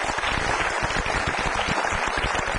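A concert audience applauds a singer after her performance, with dense, steady clapping that fills the whole stretch at an even, lively level.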